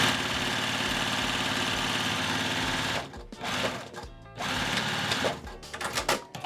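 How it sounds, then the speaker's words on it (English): A sewing machine runs steadily, stitching down the seam of a box bag, with a continuous motorized whir that pauses briefly twice before resuming in shorter bursts. "Now we're going to pick this up, put it into our sewing machine."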